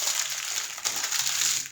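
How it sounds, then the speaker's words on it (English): Plastic waste from kitting up a diamond painting being crumpled and crinkled into the trash, a soft, continuous crackling rustle close by with a few sharper crunches. "Just throw out all my plastic waste in the"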